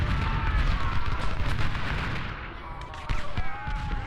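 Rumbling battlefield fire from Civil War rifles and artillery aimed at General Johnston in the strategy game Ultimate General: Civil War, a dense continuous roar of shots and booms.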